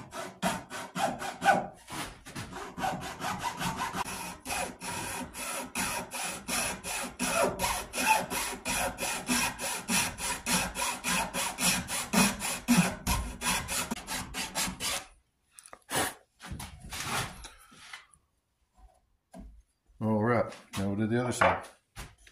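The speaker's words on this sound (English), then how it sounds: "after you have it marked off, you can take the chainsaw file" A chainsaw file rasps against wood while a toy bow is shaped, rapid steady back-and-forth strokes for about fifteen seconds, then a pause and a few shorter scraping bursts, close and clear.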